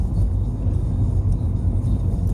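A car with the 1600 HDI diesel engine used by Peugeot, Citroen, Ford and Volvo drives along, giving a steady low engine rumble and road drone heard from inside the cabin.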